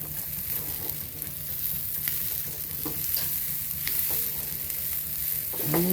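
Shrimp and breadfruit stir-fry sizzling steadily in a pan, with repeated scraping stirs through a constant close, loud frying hiss; no talking.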